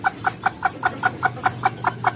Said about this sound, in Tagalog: 3 ang bagong sisiw.